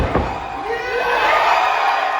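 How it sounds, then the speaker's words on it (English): A crowd at a wrestling show cheers and shouts loudly, a broad roar of voices with whoops swelling toward the end. "Crowd very loud for El Hijo de Pueblo."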